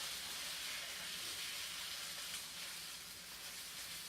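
Meat sauce poured over noodles in a hot pan sizzles with a continuous, loud, hissing fry that eases slightly toward the end, close by and free of speech.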